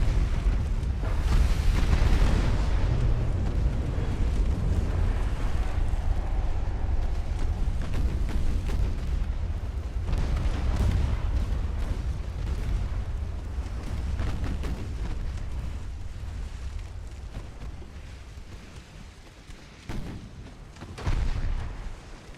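Naval gunfire in Ultimate Admiral: Dreadnoughts, a long stretch of deep rumbling booms and repeated heavy cannon blasts at sea, rolling continuously with louder bursts near the start and end.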